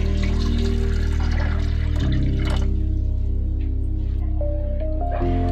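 Water being poured into a pressure cooker holding soaked chickpeas, a steady liquid rush that shifts in tone partway through as the level rises, close and continuous with no talking.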